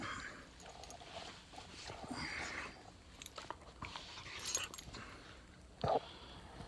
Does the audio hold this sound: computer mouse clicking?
no